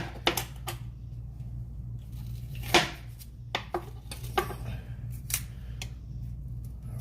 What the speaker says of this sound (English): I'm just cutting this tomato in half. This onion in half